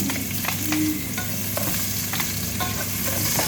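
Onions sautéing in hot oil in a pan for pancit, a steady close sizzle with a few light scraping stirs over about three and a half seconds, no voices.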